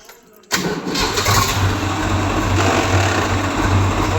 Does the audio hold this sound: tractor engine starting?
yes